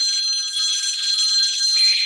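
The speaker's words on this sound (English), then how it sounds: "The phone rang." A telephone rings continuously with a steady, bright electronic trill, fairly loud and alone with no voices, lasting the whole short stretch.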